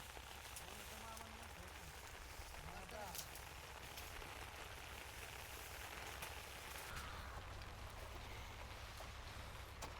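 Rain falls steadily on a sugarcane field in rural India, a soft, even patter that lasts throughout, with a voice talking quietly over it.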